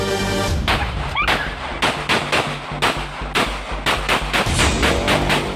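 Rapid series of loud, sharp gunshots fired by a man in Mindanao, bursting in quick irregular succession with echoing booms and no talk.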